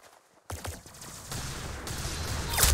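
Video game gunfire breaks out after a brief quiet, a rapid burst of loud shots that stays busy and rises near the end.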